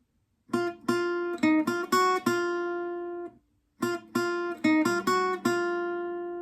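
Plucked guitar notes from section 2 of a song's riff, live-version style, played alone in two short phrases of about six quick picked notes each, ringing clearly with a brief silence between them.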